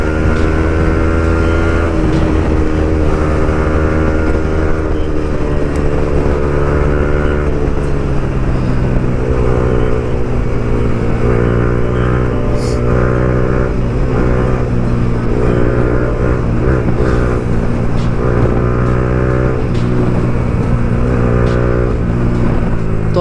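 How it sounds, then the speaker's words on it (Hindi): A motorcycle with a loud aftermarket exhaust drones steadily throughout, its low rumble shifting pitch as it revs up and settles, with no talking. "मेरी बाइक में एग्जॉस्ट लगा हुआ है यार, बहुत ज़्यादा आवाज़ आती है"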